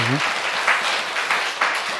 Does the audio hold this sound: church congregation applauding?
yes